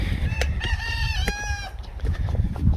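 A rooster crows loudly and close by, a long rising and falling call lasting over a second, followed by fainter clucking and farmyard noise.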